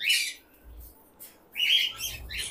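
Pet birds at a lovebird farm, with cockatiels nearby, give bursts of shrill chirps and tweets in short clusters separated by brief quiet gaps, fairly close.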